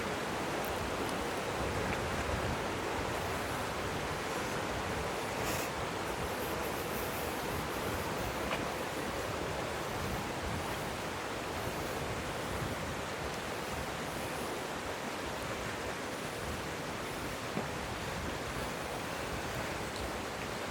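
Strong wind sweeping across an abandoned bridge over water, a steady, loud rushing roar with slight gusting swells and no voices.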